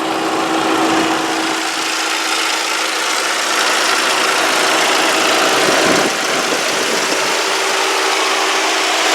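The engine of a 2002 Saab 9-5 idles steadily up close, giving a continuous even hum with a faint tonal whine and no talking.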